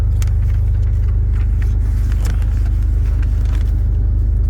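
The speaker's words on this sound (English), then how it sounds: "The bus is moving already." A bus engine rumbles low and steady as the coach pulls away on a trip toward Amherst and Charlottetown, with a continuous deep drone and faint higher road noise throughout, no talk.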